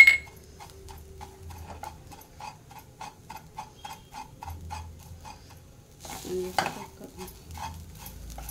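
Grated coconut roasts in ghee in a pan, heard as a regular series of soft ticking spoon scrapes as it is stirred, with a louder clattering burst near the end; no talk.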